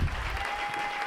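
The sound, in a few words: congregation applauding the Lord in church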